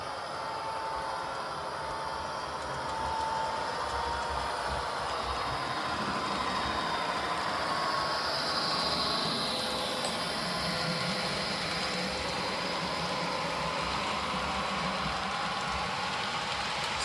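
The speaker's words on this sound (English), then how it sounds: "Hear that engine ramp up a little bit." An Athearn SD40 model diesel locomotive's sound system: a continuous droning engine hum with a faint high whine holds steady throughout, rising slightly in intensity midway as the engine ramps up with speed.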